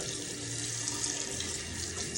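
Water runs steadily from a tap into a pot in a continuous splashing rush, close by, with no talking.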